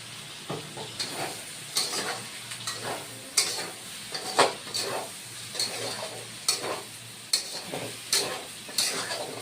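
Tomato paste and spices for a raw banana curry are stir-fried in a pan, giving repeated scraping strokes roughly every second over a low continuous sizzle, close up, with no talking.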